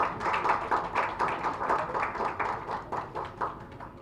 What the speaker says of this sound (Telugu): మీరు గమనించి కొంచెం ప్రోత్సహించండి, చప్పట్లు కొట్టండి అందరూ కూడా